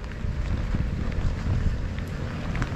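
Strong typhoon wind roars steadily past the microphone with a dense low rumble and no clear gusts, at a waterside spot while anglers fish for snakehead in the rain.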